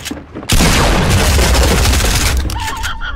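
Dense, rapid gunfire from Fortnite bursts in abruptly and loud, a continuous fusillade of overlapping shots and booms that tapers slightly toward the end.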